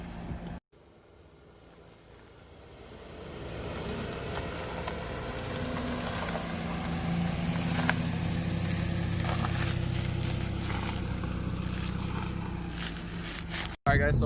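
Low, steady engine rumble and road noise from inside a moving Mitsubishi Lancer on new wheels, gradually growing louder, with brief dropouts at the start and end.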